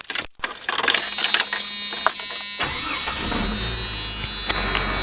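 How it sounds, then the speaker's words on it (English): A Jeep Cherokee XJ cranks and its engine catches, settling into a close, steady idle with a high electrical whine running over it. "let's go ahead and see if we can turn the car on."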